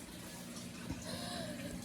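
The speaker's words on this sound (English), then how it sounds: "And then I just pour the new water in." Fresh water poured into a tub for a juvenile axolotl, a faint, steady, continuous splashing trickle running for about two seconds, close by and with no talk.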